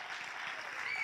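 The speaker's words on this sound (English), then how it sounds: "Let's clap." Audience clapping at a church gathering in Salem, a steady wash of applause in a large room, fairly distant and consistent through a brief burst.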